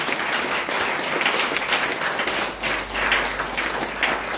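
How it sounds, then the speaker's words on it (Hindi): An audience at a DXN health-product meeting gives a round of dense, lively applause for a senior member. The clapping runs steadily from start to finish, with a low hum in the background. "अपने सीनियर के लिए एक जोरदार तालियां बजा के लिए"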